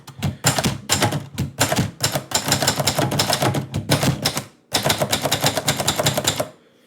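Rapid mechanical keystrokes from a typewriter clatter in steady bursts, loud and close, with a short pause midway and a quiet tail at the end.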